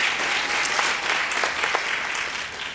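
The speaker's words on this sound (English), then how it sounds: "A round of applause to Brand South Africa." Audience applause at the 2019 Momentum gsport Awards ceremony, a steady wash of clapping from a large crowd that fades slightly toward the end.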